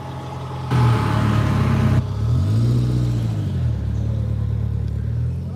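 A Peugeot 205 GTI rally car with stiff suspension, running in a classic rally, passes close by with a loud engine roar that rises and shifts pitch as it goes. The engine note fades into a lower rumble afterward.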